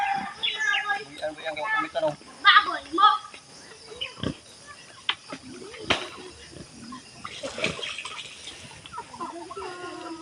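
A pig grunts and oinks close by, mixed with people talking and birds chirping in the background.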